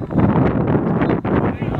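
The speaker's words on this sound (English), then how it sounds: "it's pretty windy out there today" Steady wind buffeting the microphone at an outdoor Sunday league football match, a constant low roar with gusty swells, while voices talk faintly underneath.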